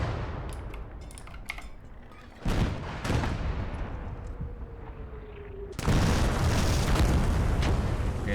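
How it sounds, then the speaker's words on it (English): Artillery shells explode in a Gates of Hell: Ostfront Talvisota battle, a few heavy booms around 2.5 and 3 seconds over a rumbling battlefield din. A much louder, close blast near 6 seconds is followed by sustained roaring. "that artillery is very close to us"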